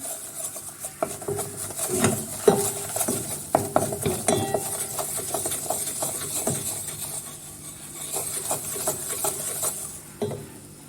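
Flour toasts in melted butter in a pot while being stirred, giving repeated rasping scrapes and rubbing strokes of a utensil over a gentle background sizzle, close and uneven in rhythm.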